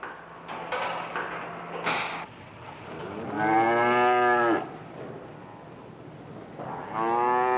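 Dairy cows from a herd of 86 on a highly mechanized farm moo loudly and close by, with one long low call in the middle and another starting at the end, among scattered knocks.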